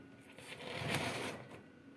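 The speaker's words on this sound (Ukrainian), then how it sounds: "Вентилятор робить, гудить." The fan inside a Teplusha IP 220/50 household egg incubator hums steadily and quietly, giving a soft, even whir with no speech over it.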